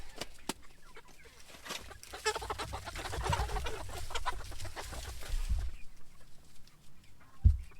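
Meat chickens cluck and murmur in a flock nearby in a mobile coop, soft overlapping calls with scattered scratching and taps, ending with a sharper bump.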